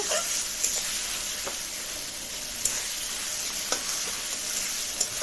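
Onion and garlic paste fries in a pan with a steady broad sizzle, a few soft scrapes of stirring breaking through now and then; no one speaks.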